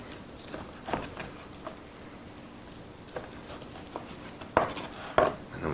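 Knife strokes cutting a partly cooked smoked beef pot pie into small pieces, with scattered soft taps and scrapes against the dish and two sharper clinks near the end.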